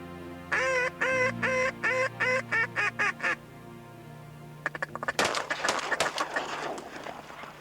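Ducks on coastal waters during a duck hunt for redheads and pintails give a rapid series of honking quacks, then a burst of clamorous calls and splashy noise as the flock erupts.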